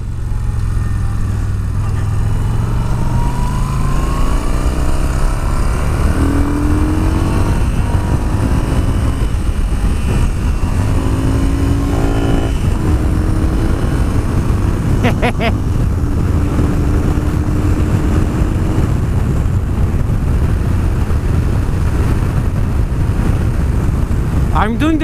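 Yamaha XV950 Racer motorcycle engine at speed on an open road, a steady loud drone with rising and falling tones as the rider shifts, mixed with heavy wind rush throughout and someone talking over it.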